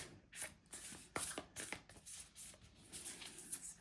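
A tarot card deck is riffled and shuffled close by, with quick papery bursts of flicking and slapping cards repeating in an uneven rhythm, with no talking.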